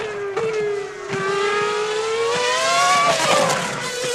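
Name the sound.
Formula 1 car racing on track at 2006 French Grand Prix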